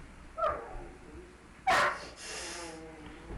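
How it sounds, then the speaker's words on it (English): A dog indoors gives two separate barks, the second louder and near, with a whiny tail and soft background noise between. "I don't know why the dog's barking."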